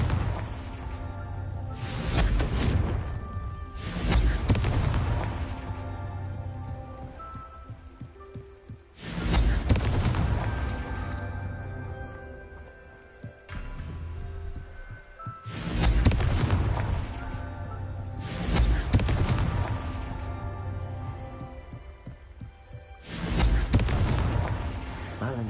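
Repeated Confringo spell explosions from the video game Hogwarts Legacy on PS4, five loud booming blasts spaced a few seconds apart, each with a sharp broadband burst and rumbling tail over steady game ambience.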